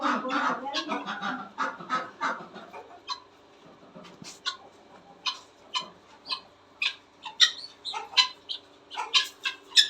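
Chickens and a rooster in a home garden, a run of short, close clucks and squawks in the second half, earlier mixed with voices and scattered bird calls.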